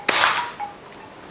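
A single sharp airsoft gun shot fired during an FPS quality control test, a loud close crack followed by a brief fading ring.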